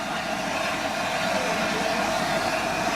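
Steam locomotive 60009 Union of South Africa sits on a turntable, giving a steady loud hiss and rumble throughout without a clear break or voices.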